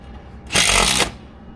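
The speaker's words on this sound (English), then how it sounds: "It's really hard to get them to drill through that copper." A single brief, loud whirring burst of a power drill driving a screw into copper roofing on a steeple, lasting about half a second, then quiet.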